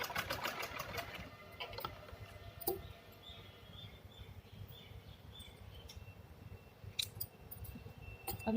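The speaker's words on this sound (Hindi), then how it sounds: "इस तरह से इसको ऐसे हमने सिलाई लगा लेनी है।" A sewing machine stitches an organizer made from spare fabric, its quiet steady mechanical whir running throughout with a few light clicks and taps, faint and close.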